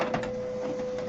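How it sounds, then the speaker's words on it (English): A printer printing a page, a short steady mechanical whir with a sustained motor tone and a soft clunk at the end, close and moderately quiet. "wait till that finished printing"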